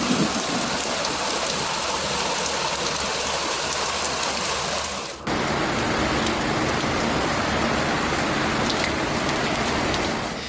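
Heavy rain pours down steadily and loudly on surfaces during a torrential afternoon downpour over Montreal's West Island and South Shore, a dense, unbroken hiss with a brief dip midway.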